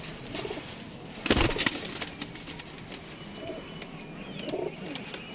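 Rampuri pigeons, including blue birds, cooing softly in a rooftop loft, with a few low rolling coos spread across the clip and one brief louder burst of fluttering or handling noise near the start.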